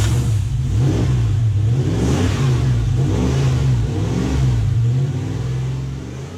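Van engine revving as the throttle is opened, a loud, steady mid-pitched roar with rising and falling pitch sweeps through the whole stretch, close by and alone without talk.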